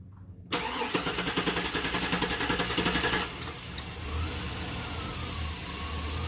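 A 1999 Chevy Silverado's 5.3L V8, running lean, cranks after a short silence and catches into a loud, steady idle with a rough, pulsing throb close by, the revs easing down and settling.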